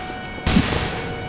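A single sudden gunshot burst from The Hidden, a multiplayer horror game, cuts into a quiet background and leaves a sustained noisy tail for the rest of the moment.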